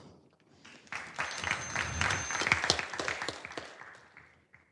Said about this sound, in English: And I hear other people clapping.